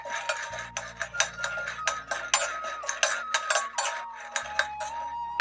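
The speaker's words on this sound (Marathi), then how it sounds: "हे बघा, शेंगदाणे पण आपले होत आले, छान चटचट करायला लागले." Peanuts dry-roasting in a pan over a low flame, giving a steady run of sharp crackles and light clinks against the metal, close and distinct, over a faint low hum.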